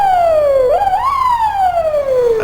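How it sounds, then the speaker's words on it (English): A fire truck's manually operated siren wails loudly and up close, its pitch sliding down, dipping, rising again, then falling in one long sweeping cycle. "I do like using a manual siren"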